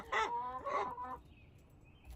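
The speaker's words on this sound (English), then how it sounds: "my barred rock's noisy" A Barred Rock chicken gives two loud, close, honking squawks in quick succession, followed by quiet.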